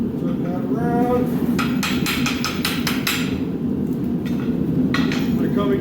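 A blacksmith strikes a steel hand rail scroll on an anvil with a steady run of bright, ringing hammer blows, pausing briefly before another short burst, over a constant forge hum.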